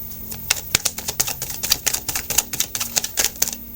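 Rapid run of crisp, sharp clicks and snaps from a deck of cards being handled, close and fairly loud, with uneven bursts and no talking.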